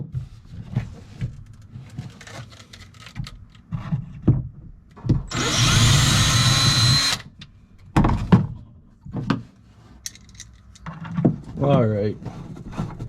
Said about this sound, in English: let's drill the hole where it belongs